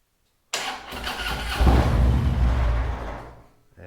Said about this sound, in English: now I'm going to turn on the bike